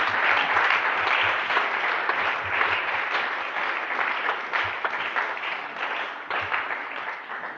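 A church congregation applauding in sustained, dense clapping that stays loud for several seconds and eases off slightly toward the end, with faint voices mixed in.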